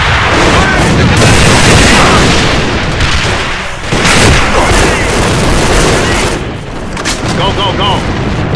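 Grenades and gunfire in a fast-paced online shooter game produce a continuous loud, dense barrage of booming blasts and rumbling explosions throughout, with shouted voices mixed in.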